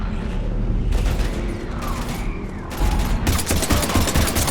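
Heavy gunfire in Mass Effect Legendary Edition, dense rapid bursts of automatic fire with mechanical clatter, loud and close, intensifying toward the end with no talk over it.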